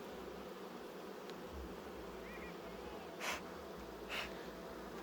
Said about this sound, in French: c'est des petites abeilles quand même